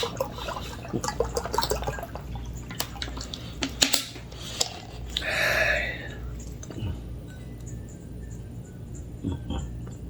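Cold drinking water is poured for a drink, giving a brief, soft gush of liquid in the middle over a steady low background hum, with faint clinks and taps around it.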